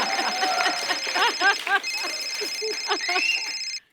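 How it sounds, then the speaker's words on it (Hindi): A mobile phone rings with a melodic electronic tone that repeats for a few seconds, mixed with voices and a studio audience, then stops abruptly. "ये मेरा फोन बजा।"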